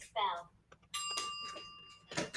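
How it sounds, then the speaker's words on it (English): A bell rung in a classroom partner-talk lesson sounds once as a bright chime with sustained ringing tones for over a second, following a short burst of speech. "You can only talk after you hear this bell."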